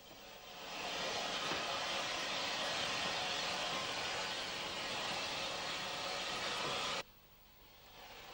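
Irish steam locomotive number 93 backing down onto the coaches of the 11:25 a.m. Belfast to Londonderry train, a steady broad rushing hiss that runs loud for several seconds, then cuts off sharply to a quieter background.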